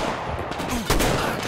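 A sniper rifle shot in the Metro Exodus video game: one sharp, loud blast cracks out partway through over a dense, noisy background of game effects.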